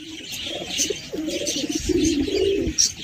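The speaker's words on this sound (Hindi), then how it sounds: "ये देखिए दोस्तों जोड़ा लग रहा है कबूतर जो है, जोड़ा लग रहा है" A pair of pigeons coo at a home loft: low, throaty, rolling coos repeat continuously and close by. Higher chirps and background bird noise sound around them.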